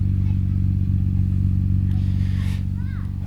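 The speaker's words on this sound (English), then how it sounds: "it does have, oh, so nice sounding exhaust" Exhaust of a 1993 Nissan Skyline GT-R R32 idles close by, a loud, steady, throbbing low burble with a regular pulse, carrying on unbroken from start to finish.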